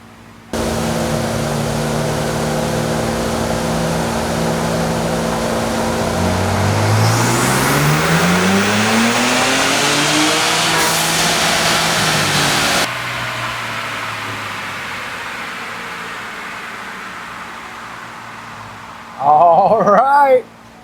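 A stock-engine Ford Bronco 2.7L on a tuning pull revs hard, its engine note sweeping steadily upward to a peak, then cutting off and winding down, with a short voice near the end.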